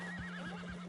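A horse whinnies in the Red Dead Redemption 2 video game, one short wavering neigh that sits close and fairly quiet over a steady background hum.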